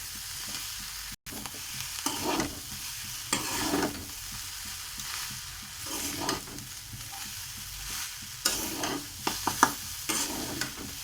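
Vegetable chowmein noodles made without egg, with winter vegetables, stir-fried in a pan: a steady close sizzle with repeated scraping and tossing strokes throughout.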